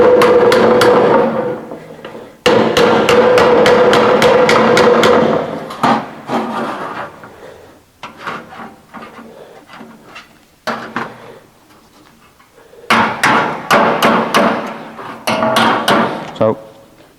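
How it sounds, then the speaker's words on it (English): A lump hammer taps up the flange of a metal pan, with a second lump hammer held behind as a dolly; sharp ringing metallic strikes come in quick bursts, pausing between runs, loud and close, with no talk. "using a lump hammer as a dolly just holds that so that I can just tap the flange up"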